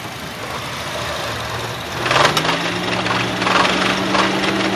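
A car engine idles with a steady low hum, then a mechanical clunk and rising whine follow as the car is shifted into reverse gear, the engine noise continuing close and moderately loud.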